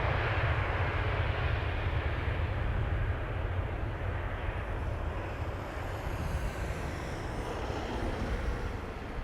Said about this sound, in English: It is an A321neo. Brand new.